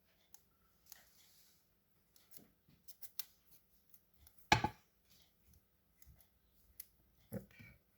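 Scissors trim the excess paper from a handmade gift tag: a few sparse, quiet snips and clicks with one sharper cut near the middle, close by in a quiet room.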